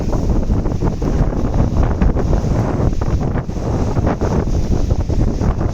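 Steady roar of wind buffeting the microphone over the wash of rough, whitecapped sea waves, loud and continuous throughout.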